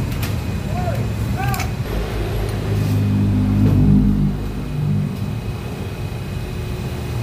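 A hydraulic hose crimping machine compressing a hose, a low steady mechanical drone with a swelling pump hum midway, heard close and fairly loud, with a few faint high chirps early on.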